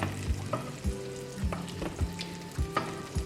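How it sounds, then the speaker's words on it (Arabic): Butter melting in a pan, a continuous soft sizzle and crackle with clinks of a stirring utensil against the metal at irregular intervals. "ندير الزبده نخليها تذوب،"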